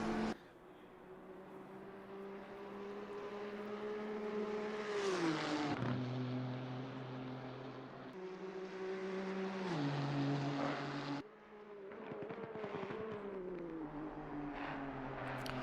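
A Nissan GT-R race car at Barcelona in a GT Americas race, its engine droning loudly and rising through the gears, with sharp drops on upshifts and a brief lift before revving again.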